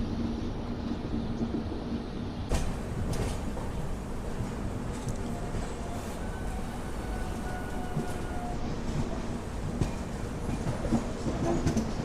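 Narayanadri SF Express running between Tirupati and Lingampalli, approaching Hyderabad, gives off a steady, moderately loud rumble with faint clickety-clack rattles and a few sharper knocks, no speech present.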